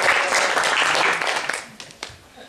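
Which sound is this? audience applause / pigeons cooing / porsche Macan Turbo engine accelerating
audience applause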